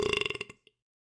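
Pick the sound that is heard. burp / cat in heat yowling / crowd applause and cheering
burp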